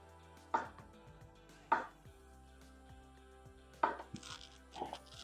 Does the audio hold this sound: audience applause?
no